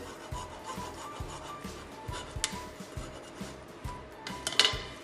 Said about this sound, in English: you can then just simply cut it with a hacksaw. As it's plastic, it should go through nice and easily.